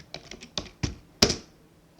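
A cd command being typed on a computer keyboard: a short, close run of about six light key taps, ending in a firmer keystroke.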